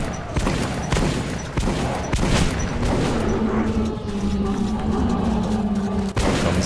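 Gunfire in Metro 2033 Redux from a high-damage gun that is slow to reload, with loud sharp shots going off repeatedly over a dense, rumbling game soundscape.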